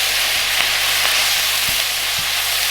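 Light and dark soy sauce hit a hot wok with beef, sizzling loud and steady throughout, with a few soft scrapes and clicks of stirring underneath.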